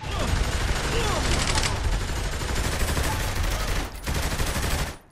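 Dense, sustained gunfire rattles nonstop through a chaotic chase fight in Saints Row 3 Remastered, loud and close, with a brief gap before the shooting resumes and cuts off.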